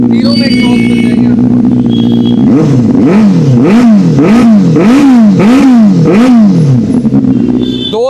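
A 2019 Benelli 600i motorcycle engine idles loudly, then is revved in about six rhythmic blips that rise and fall before settling back to a steady idle.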